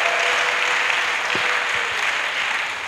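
A church congregation at a pastoral academy session bursts into sustained applause, dense and steady for the whole stretch, with a few brief voices rising faintly beneath the clapping.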